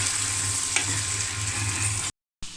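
Cumin and dal fry in a pan as the base of a meat curry, giving a steady, close crackling sizzle that cuts out briefly near the end, then resumes.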